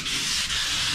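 Sandpaper of 600 grit rubs across EP82 car bodywork in a brief, close, continuous scratchy hiss.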